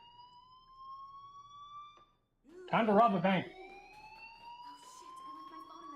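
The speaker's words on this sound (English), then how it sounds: "Hey, do you hear that fire alarm?" A fire alarm sounds as a steady electronic tone, faint and rising slightly in pitch, continuing beneath a brief stretch of nearby speech.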